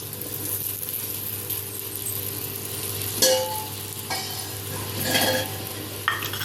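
Millet tikkis shallow frying in oil on a hot tawa over a medium-to-low flame, with a steady close sizzle and a few louder bursts of crackle and scraping.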